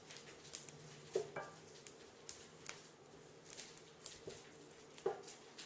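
Curry leaves dry roasting in a pan for curry leaf powder, giving soft crackles and light rustling stirs with a few sharper pops, close and fairly quiet, no talking.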